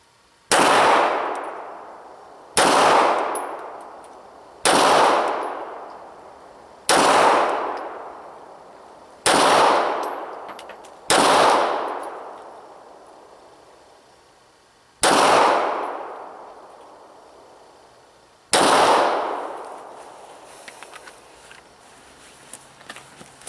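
Eight M&P 9c pistol shots fired slowly for accuracy at a target seven yards away, each a sharp loud crack with a reverberant decay, spaced two to three seconds apart with a longer gap before the last two.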